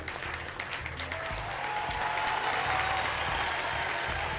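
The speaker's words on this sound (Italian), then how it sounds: "Applausi, vai!" A canned applause sound effect plays, steady dense clapping from a crowd at even loudness for a few seconds.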